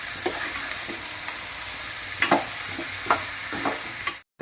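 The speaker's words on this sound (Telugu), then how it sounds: "మనం చికెన్ వేసుకున్నాక కొద్దిగా కలుపుకోవాలి చిల్లీ మిర్చి" Chicken curry with chilli is stirred in a hot pan, a continuous sizzle broken by several spoon scrapes and knocks before a brief cutoff.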